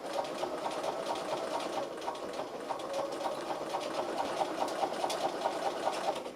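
A sewing machine stitches a curved seam in fabric, a steady, close mechanical whir with rapid needle ticks running continuously at even speed throughout.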